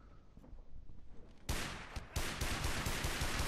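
Pistol fire in the PC shooter Frontlines: Fuel of War, starting with a few faint shots and then two loud, close bursts of rapid shots.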